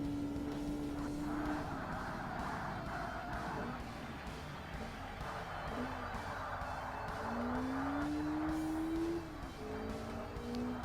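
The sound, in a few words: Lotus Exige race car driving in Forza Motorsport video game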